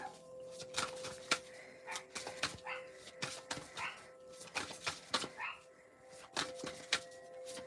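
A small pet dog whimpering and giving soft yips and barks indoors, faint and intermittent, with people talking over it throughout.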